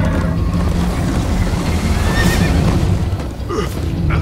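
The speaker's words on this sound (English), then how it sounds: "First time on a horse here!" A horse whinnies in Minecraft Story Mode during a fast chase, its loud neigh rising over a dense, rumbling rush of hooves and action noise that fills the whole stretch.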